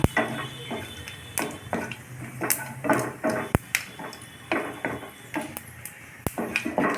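Bay leaf pieces, a dried red chilli and whole cumin are stirred in a pan with a spoon, giving repeated metallic scrapes and taps in an irregular rhythm over a soft sizzle, close and moderately loud with no talking.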